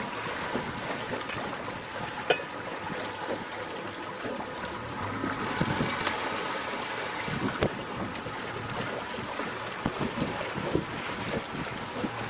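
A 2013 SeaFox 226 Pro Series center console boat cruising at about 8 knots through a no-wake zone, with a steady outboard drone mixed with wind buffeting the microphone and water rushing along the hull, continuous and fairly close.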